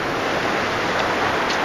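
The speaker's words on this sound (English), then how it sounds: "Waves is big. Tide's coming in now." Big ocean waves washing onto a beach as the tide comes in, a continuous loud rush of surf with some wind buffeting the microphone, no voices.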